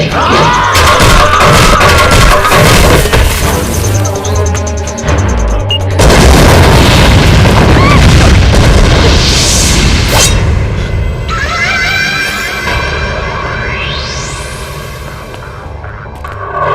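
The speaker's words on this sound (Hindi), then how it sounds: "हमारी बहन को बम से उड़ाएगा कमीना कहीं का" Loud bomb explosion sound effect in a Bhojpuri action film, a deep booming blast with crashing debris and crowd-like roar, layered with music and whooshes that swell and fade over about seventeen seconds.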